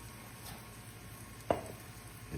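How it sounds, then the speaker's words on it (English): A steady, low sizzle of homemade biscuits frying in a hot pan, with a brief sharp clatter partway through and another near the end. "It's sizzling, y'all."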